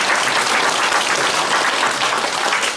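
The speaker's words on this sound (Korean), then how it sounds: "3일인가 작업을 해서 마무리하고 와서 축하 박수 부탁합니다" An audience bursts into dense, steady applause, a continuous close wash of many hands clapping with no voices over it.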